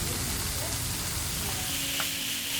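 Onions gently frying in a pan over moderate heat, a soft, steady sizzle and crackle running throughout at low volume with a faint stir near the end.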